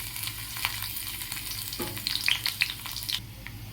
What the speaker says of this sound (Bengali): তেল দিলাম এরপরে থেতো করা রসুনটা দিয়ে দেবো